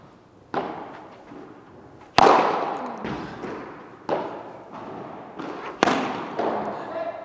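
Padel shots struck with a Royal Padel racket on court, a series of about six sharp, hollow thumps at uneven intervals, each ringing briefly, mid-distance with light background noise between hits.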